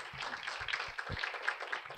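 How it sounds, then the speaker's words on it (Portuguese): An audience in a theatre applauds at the close of a talk: steady, dense clapping from many hands across the whole moment, fairly even in loudness with no voices on top. "O público se despede com aplausos."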